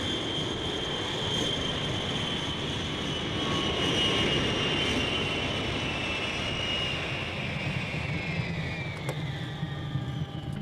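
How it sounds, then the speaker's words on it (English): A small jet airplane comes in to land at a small untowered mountain-country airstrip, its engine a steady, loud roar with a whining tone held throughout and no talking. "Dick, we're getting ready to go into a landing"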